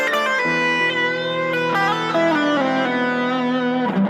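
Electric guitar through distortion and effects plays a pentatonic arpeggio, sustained notes stepping one after another up and down, loud and close with no talking.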